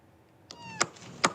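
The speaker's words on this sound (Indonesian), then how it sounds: "Seekor anak kucing terjebak di celah beton di lingkungan sekolah di Pemalang, Jawa Tengah." A kitten trapped with its head stuck in a hole in concrete at a school in Pemalang, Central Java, gives two short, sharp meows about half a second apart. The calls are close and clear over quiet background hiss.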